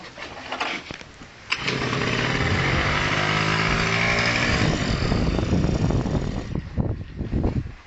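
A voice imitates a two-stroke scooter engine, sputtering to a start and then holding a loud, buzzing, steady drone for several seconds before breaking off.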